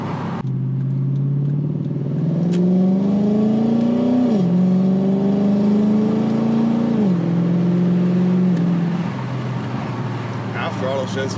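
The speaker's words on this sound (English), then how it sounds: "Half throttle shifts feel insane." A car accelerating at half throttle runs through its transmission shifts, its engine note climbing steadily and dropping at each shift change. It stays loud and close throughout, with no one talking over it.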